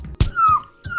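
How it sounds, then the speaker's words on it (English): A whalefin sea creature's whimper from a Waterworld fan video game, heard as three short, whining, dog-like cries with falling pitch, close and clear, separated by brief pauses. "the whalefin retreats back to the depths with a whimper"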